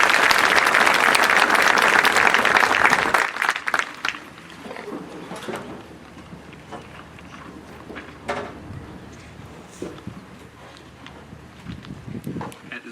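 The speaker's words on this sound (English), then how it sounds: "Please give our staff a round of applause." Applause from a stadium graduation ceremony crowd honoring staff, loud and dense for about three seconds, then quickly dying away into scattered claps, shuffling and faint distant crowd noise.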